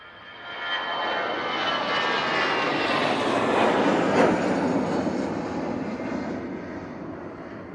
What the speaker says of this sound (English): EasyJet on the roll. This is off to Belfast, using their A320-200.